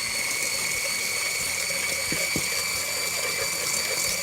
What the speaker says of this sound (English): you wanna whisk away until those egg yolks kind of go pale in color